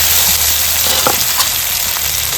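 Chopped tomatoes sizzle and hiss loudly in hot oil in a pan for a Bengali crab and potato curry, a steady close frying crackle with a brief stir near the middle.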